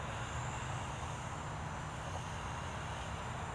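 A steady, droning motor whine with a broad noisy hiss, holding constant throughout as a Blade Revolution 235 CP collective pitch RC helicopter hovers nearby.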